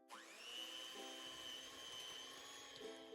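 An electric mixer whirs steadily, close and continuous, beating cookie batter with sugar for candy cane cookies, its motor pitch rising quickly at the start and then holding level.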